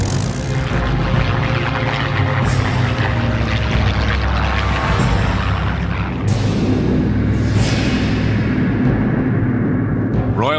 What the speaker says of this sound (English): The skies above southern England are filled with aircraft and the sounds of battle.